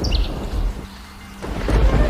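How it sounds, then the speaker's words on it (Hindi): Heavy rain hisses steadily with deep rumbling thunder rolling through, briefly easing before swelling again. "मूसलाधार बारिश का पानी टप टप करके घर के अंदर आ रहा था"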